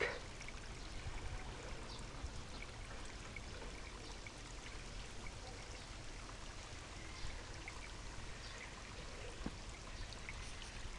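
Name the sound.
water flowing in a creek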